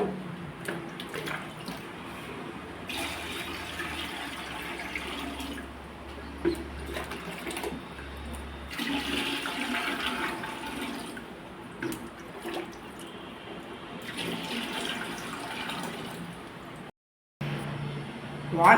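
Water being poured into an aquarium tank during setup splashes and trickles in uneven bursts, fairly quiet and close, with brief pauses and a short silence near the end.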